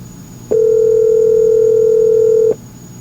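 An outgoing phone call ringing through Apple CarPlay in a Lexus ES: a single sustained electronic ring tone lasting about two seconds, loud and clean over a faint cabin hum, with no talking.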